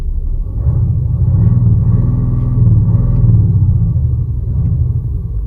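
An Audi S6 estate's engine and exhaust rumble on the road, a deep, muffled drone that swells and eases gently as it drives, loud and continuous with no voices.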